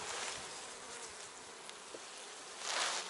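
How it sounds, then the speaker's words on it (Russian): Honey bees buzz steadily around an opened hive frame at an apiary, a dense close humming drone that swells slightly toward the end, with no voices. "Но пчелки есть."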